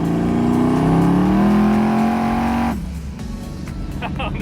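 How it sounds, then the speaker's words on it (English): Tuned car engine revving hard with a rising, loud note, then cutting off abruptly into a quieter idle with faint hissy bursts from the blow-off valve; heard close from inside the car. "It revs pretty good. And actually, the blow-off valve is actually working exactly why it's supposed to."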